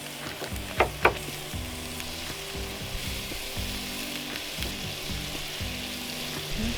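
Butter sizzles and fries on a Weber griddle beside pork, a steady close crackling hiss with a couple of sharp clicks early on and a low rhythmic mechanical hum underneath.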